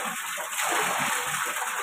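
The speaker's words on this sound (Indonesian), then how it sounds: "keran airnya yang dari toren biar turun ke bak mandi" Water from a storage tank tap pours into a bathtub, a steady close splashing gush that swells slightly midway and runs continuously.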